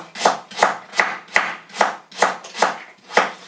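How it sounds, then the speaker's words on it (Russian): Thin potato slices cut with a knife on a board for French-style oven-baked potatoes, eight steady, rhythmic chops at close range, loud and regular, with no voices. "Толсто не режу, ребята, тоненько."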